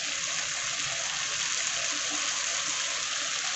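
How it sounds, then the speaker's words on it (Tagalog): A little water pours into a cooking pan of sautéed alugbati greens with sardines, a steady close rushing trickle that holds evenly throughout without any talk. "Lagyan natin kunting tubig."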